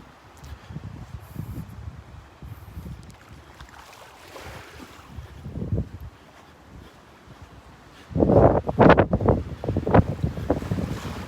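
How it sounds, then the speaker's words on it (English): Wind blows steadily through pine trees beside a beach, a soft, continuous rushing that rises into louder gusts near the end, with the faint wash of surf underneath. "listen to the wind blowing through the pines"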